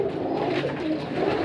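Pigeons kept by a breeder coo in a low, continuous murmur throughout, a close, dense burble of several birds with no talking over it.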